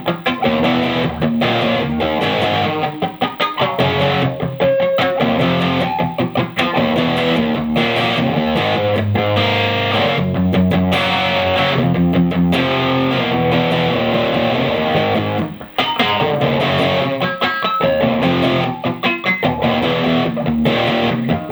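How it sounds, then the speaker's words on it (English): A distorted electric guitar chugs through rock power chords in a steady rhythmic pattern, loud and close, with sustained gritty chords and brief pauses between phrases. "when I add the distortion, you can play this power chord"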